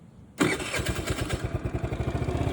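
A 2025 Wolf RX-50 50cc moped engine cranks and catches after a moment of silence, then settles into a close, steady, pulsing idle with a rapid rhythmic putter.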